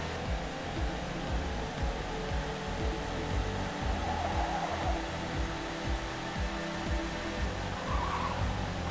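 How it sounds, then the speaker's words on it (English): A race car in the Trackday Manager video game accelerates down a straightaway, its engine a steady, loud droning roar with a faint rising whine, continuous and without speech. "We're gonna punch this accelerator, and we're gonna see how quickly we can get going on this straightaway."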